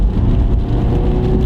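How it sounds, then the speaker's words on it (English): A Honda car accelerates hard with its tires spinning, the engine loud and close with a steady strained roar and a whirring drone throughout. "You step on the gas, whoop, spun the tires too fast."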